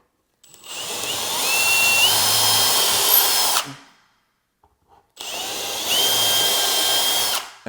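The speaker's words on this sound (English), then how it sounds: "and finish drilling all the way through" Power drill boring through drawer hardware, two long loud high-pitched whining bursts of several seconds each separated by a short silence, close up.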